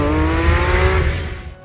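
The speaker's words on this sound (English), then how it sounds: "The sound of a small army of motors interrupted her." Loud motor sound effect of many trucks and cars approaching, a close, steady engine drone with a revving tone that swells briefly and then fades out toward the end.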